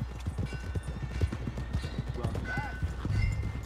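Horse hooves clip-clop in a steady walking rhythm near a stable in the Red Dead Redemption 2 video game, with a brief whinny and some quiet game sounds mixed in.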